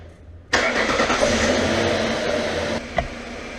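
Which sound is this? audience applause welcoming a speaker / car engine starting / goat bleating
car engine starting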